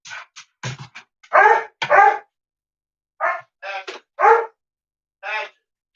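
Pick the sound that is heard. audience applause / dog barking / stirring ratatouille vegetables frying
dog barking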